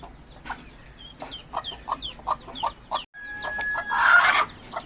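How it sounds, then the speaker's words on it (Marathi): Chickens cluck repeatedly in short, rhythmic calls nearby, followed by a louder burst of squawking and a rooster-like cry. "ह्या कोंबड्या त्यांच्या जवळ येतात"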